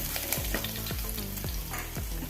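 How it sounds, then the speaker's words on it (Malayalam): Crushed ginger and garlic fry in oil for a Kerala-style sardine curry, a steady close sizzle broken by a series of regular scraping strokes as a spoon stirs the pan. "ഇനി ഇഞ്ചി വെളുത്തുള്ളി ചതച്ച് ഇട്ട് കൊടുക്കാം"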